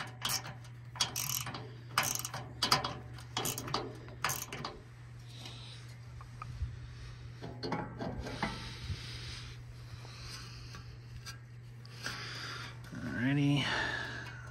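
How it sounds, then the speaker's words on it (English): A ratchet with a quarter-inch bit turns a fastener on a Bosch inverter system, making quick bursts of close, sharp clicking at the start, then softer intermittent handling sounds with some voice near the end. "And then we'll just go ahead and put the ratchet on there."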